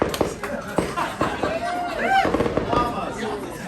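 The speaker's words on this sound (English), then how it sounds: "it's my pleasure to propose a toast amongst the fireworks" Fireworks crack and pop repeatedly at a wedding toast, mixed with whistling rockets and crowd chatter while someone speaks over the bursts.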